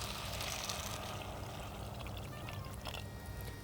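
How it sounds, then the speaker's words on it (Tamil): Water is poured into a cooking pan of oil-sautéed vegetables for tamarind curry, making a continuous rushing, splashing pour heard close up and alone. "1 கப் தண்ணி அதில் ஊற்றிக்கலாம்."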